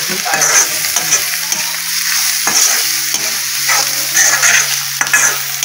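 Tomatoes frying with browned onions in a pan, stirred steadily: a continuous loud sizzle with scraping spoon strokes running throughout, no talking.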